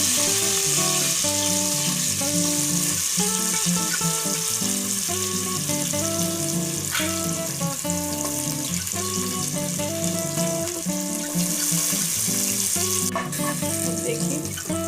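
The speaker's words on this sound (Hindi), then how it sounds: "उसके बाद हम कटा हुआ प्याज डालेंगे" Chopped onion hitting hot oil with cinnamon spice for mutton korma, giving a loud continuous sizzle. Tonal music plays throughout underneath, with no talk.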